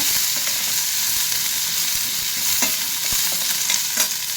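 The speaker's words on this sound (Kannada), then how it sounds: "ಇದು ಚೆನ್ನಾಗಿ ಈರುಳ್ಳಿ, ಶುಂಠಿ, ಬೆಳ್ಳುಳ್ಳಿ ಎಲ್ಲ ಚೆನ್ನಾಗಿ ಆಗಬೇಕು" Onion, ginger and garlic frying in oil with tomato and green chilli as a tempering for chilli chicken, a steady bright sizzle close up with occasional soft scrapes of stirring.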